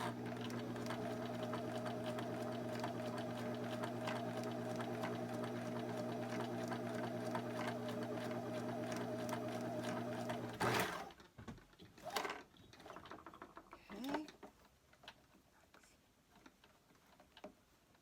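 A sewing machine runs steadily for about ten seconds with a droning hum, then stops abruptly and is followed by a few scattered clicks and thumps of the mechanism. The machine sounds close, with no talking.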